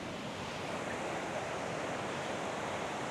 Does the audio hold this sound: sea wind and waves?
yes